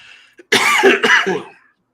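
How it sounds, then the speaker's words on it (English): A single close, loud cough in a couple of harsh bursts, following a faint brief throat sound, then silence. "Hold on, I got a cough."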